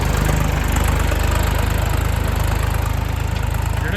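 A farm tractor runs in a field with a loud, steady, close diesel chug, rapid even pulses thudding throughout with no voices.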